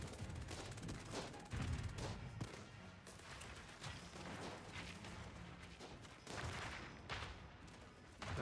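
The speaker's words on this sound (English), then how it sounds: "Artillery shells are flying." Artillery shells boom and rumble in the strategy game Battleplan, a string of deep, fairly distant blasts and crackling volleys arriving in irregular bursts.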